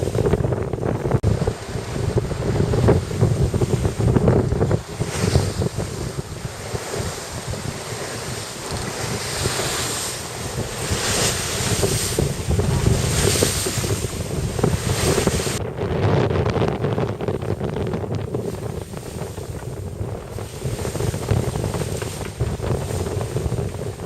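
A cold northwesterly wind buffets a sailing yacht racing in the Fastnet off Land's End, with loud continuous wind roar and rushing waves against the hull. No one speaks.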